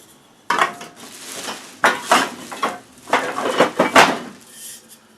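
Old metal beer cans, some tab tops in rough shape, clatter and clink as they are pulled from a bag and handled, in irregular bursts of close metallic knocks and rattles with no talking.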